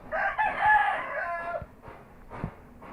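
Rooster crowing once, a loud drawn-out call up close, followed by a few soft clucks and small knocks.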